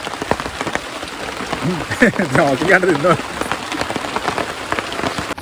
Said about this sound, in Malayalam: മഴ ചെറുതായിട്ട് കുറഞ്ഞിട്ടുണ്ട് കേട്ടോ